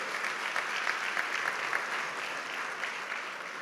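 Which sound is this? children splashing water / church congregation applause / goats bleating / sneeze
church congregation applause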